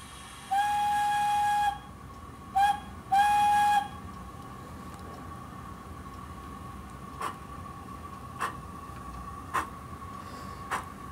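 A model passenger train locomotive on a layout, running under digital command control, gives a long whistle blast, a short toot and another long blast, followed by faint, spaced clicks as it rolls along.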